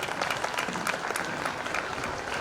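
Audience applause at a school annual function, a steady wash of many hands clapping together throughout, fairly distant and without talk over it.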